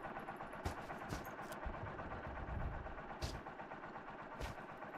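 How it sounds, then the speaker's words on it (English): Quad bike engine idling in the survival video game SCUM, a steady low rumble with a slightly uneven, rough character, held at a constant level for several seconds with a few brief sharp clicks over it. "Like the quad's nice little weird idling sound"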